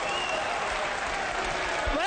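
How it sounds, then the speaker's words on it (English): Applause and cheering from the crowd at a Mosconi Cup pool match fill the hall in a dense, steady roar, with a commentator's voice faintly underneath. "The crowd cheered that ball in"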